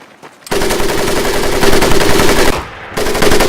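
Machine-gun fire in the World War II shooter Medal of Honor Pacific Assault, loud and sustained for about two seconds, then a brief pause before another burst begins, with no talking.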